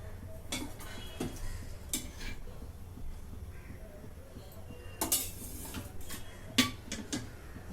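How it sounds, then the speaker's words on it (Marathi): Metal pan set down on a stove and oil poured in while cooking stuffed capsicum, with scattered clinks and knocks of cookware over a quiet background. "आता इथे पॅन ठेवून त्याच्यात तेल ओतून घेते"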